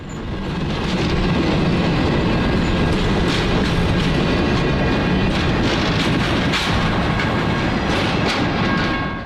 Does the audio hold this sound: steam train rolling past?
yes